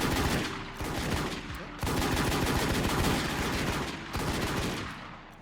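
Bursts of rapid automatic gunfire from the shooter game Warz, loud and close, come in several long volleys separated by brief pauses.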